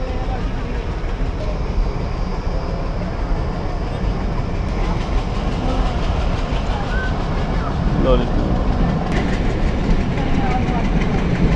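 The Rajshahi commuter train, heard from on board between Rajshahi and Rohanpur, rumbles steadily with a constant loud roar and clattering wheels, and voices murmur faintly underneath.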